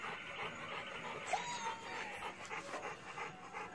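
A dog pants steadily and close by, rapid breathy puffs continuing throughout over a faint background hum, with a brief higher squeak partway through.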